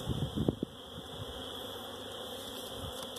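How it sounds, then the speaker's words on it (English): Honeybees buzz around hives in spring, one bee passing close and loud at the start over a continuous fainter drone of insects in the background. "That's a loud bee when they get close to your ear."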